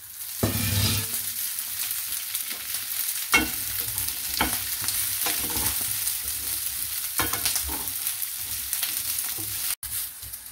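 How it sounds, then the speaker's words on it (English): Flat beans stir-frying in a hot pan, a steady loud sizzle running throughout with repeated scraping and clacking strokes of the stirring utensil against the pan. "Then stir fry the flat beans."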